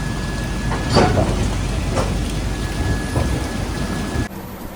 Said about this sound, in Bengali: আমাদের ট্রেনটি এখন চা বাগানের বুক চিরে ট্রেনটি এগিয়ে চলেছে